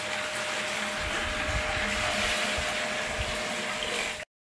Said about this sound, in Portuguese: a gente vai colocar aqui, ó, 3 litros de água